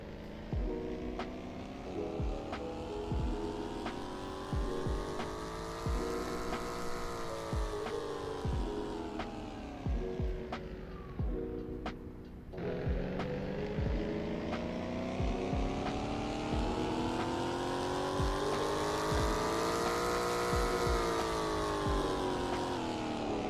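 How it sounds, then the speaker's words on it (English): Tuned show car in Roblox revving hard on a dyno, a loud sustained engine roar that climbs in pitch, drops briefly at the shift, then climbs again, steady and close throughout. "Now that we're actually finally on the dyno properly, now let's figure out what power this baby's making"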